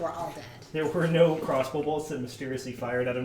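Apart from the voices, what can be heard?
No everyday noises stand out.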